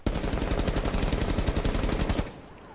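Rapid automatic gunfire from Thermite's rifle fitted with a vertical grip in Rainbow Six Siege, a loud, fast, evenly spaced burst lasting about two seconds before cutting off abruptly.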